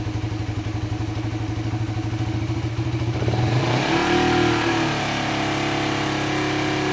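An engine idles with a rapid pulsing beat, then revs up sharply around the midpoint and holds at a higher, rougher pitch, loud and close, with no talk over it.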